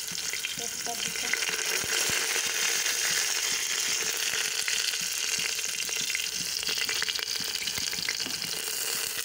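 Bay leaf sizzles and crackles in hot oil already holding chillies, ginger and garlic, a dense, steady frying hiss close by with occasional stirring, and nobody talking.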